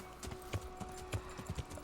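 Horse hooves clip-clop in a video game, quick irregular thuds at a gentle gait over a faint steady hum.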